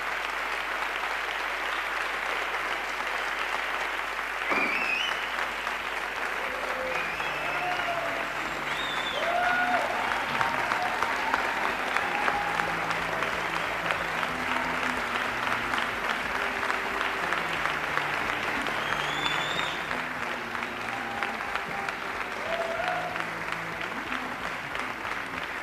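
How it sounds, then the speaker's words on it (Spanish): A large audience gives a standing ovation at a Día D 2017 event, with dense, sustained applause and crowd noise filling the space evenly throughout, loud and continuous without a break. "la gente no para de aplaudir"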